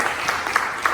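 A crowd claps together in a brief burst of applause, a steady patter of many hands at moderate volume.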